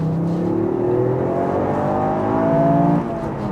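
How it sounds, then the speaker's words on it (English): A Toyota GR Yaris on a back road in 4th gear revs eagerly from about 2000 RPM, its engine note climbing smoothly and loudly in pitch before the throttle lifts near the end. "So eager, just runs up the revs and asks you to give it another gear."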